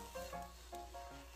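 Cabbage and rice cake pancake frying under a lid in a covered pan, a soft steady sizzle with faint crackles, quiet and continuous with no talking.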